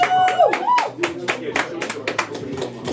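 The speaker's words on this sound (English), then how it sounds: "Round of applause." At a Hip-Hop Museum induction ceremony in DC, an audience applauds Sadat X with sparse, uneven claps and scattered cheers, while a voice speaks over the opening moments.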